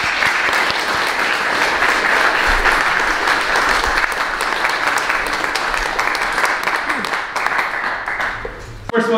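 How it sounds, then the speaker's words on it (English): An audience fills a hall with sustained, dense applause lasting several seconds for a speaker at a talk, tapering slightly at the end. "put your hands together for Joe Connell, please."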